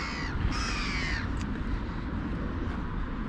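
A pair of crows caw outdoors on a foggy December morning, a few harsh calls at the start over a steady rumble of wind or distant traffic, with no talking.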